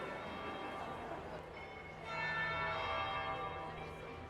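A church bell tolls in Dragon Age: Inquisition, its long ringing overtones sustained and swelling midway, heard alone at moderate volume with no talk over it.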